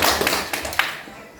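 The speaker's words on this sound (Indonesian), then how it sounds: "Oke, tepuk tangan untuk teman berdua." Students in a classroom give a short burst of hand clapping for two classmates, a few close, sharp claps that quickly fade into quiet room tone.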